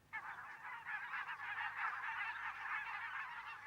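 Barnacle geese honk continuously as a dense, overlapping flock chorus, a steady wall of nasal calls from many birds at moderate distance with nothing else heard.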